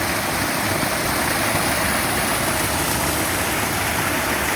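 Rainwater pours off a rural rooftop like a small waterfall, a loud, steady broadband rush that holds unbroken throughout with no voices over it.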